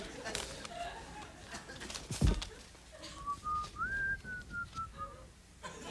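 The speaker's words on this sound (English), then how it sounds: "People backstage whistling." A person backstage at a late-night television talk show whistles a wavering, rising and falling tune, fairly faint and set behind chatter and studio background noise, with a sharp knock partway through.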